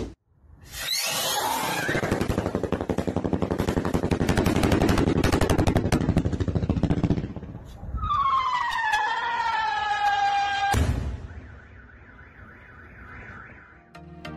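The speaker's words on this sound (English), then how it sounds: "What kind of firework is that? Is it a strobe rocket?" A loud crackling, popping burst of firework explosions, then a shrill whistling rocket and a final sharp bang followed by a wavering tone.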